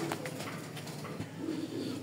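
A pair of light-coloured racing pigeons at a pigeon farm coo softly over a steady background hiss, with low murmuring calls that run through the short stretch without any voices.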